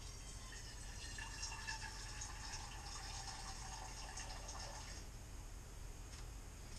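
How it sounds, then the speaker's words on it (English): Water pours into a small pot from a canner on a kitchen stove, a faint continuous splashing trickle that thins out near the end, with no talking. "I'm going to fill up my little pot"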